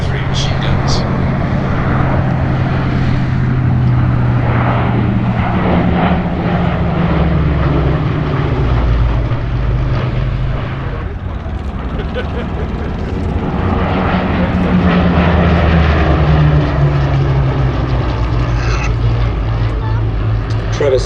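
A pair of Hawker Hurricane fighters flies at an airshow, their piston engines giving a loud, sustained droning roar that swells and shifts in pitch as the planes tighten a turn, with a voice commentating over the engines.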